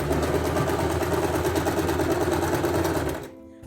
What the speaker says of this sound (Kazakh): Енді мен құрақтың шетін тігіп шығамын.